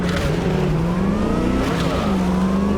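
A car engine in Cyberpunk 2077 revs hard under throttle, rising and falling in pitch with tire squeal mixed in, loud and continuous throughout with no talking.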